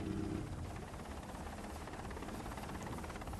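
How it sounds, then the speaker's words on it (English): Helicopter rotor noise heard from a life raft at sea: a steady, dense thrumming roar that holds at an even level throughout, with no talk. "The lookout in the raft has heard the rotor noise of the helicopter"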